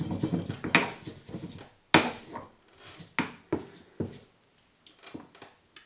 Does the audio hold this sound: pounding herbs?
yes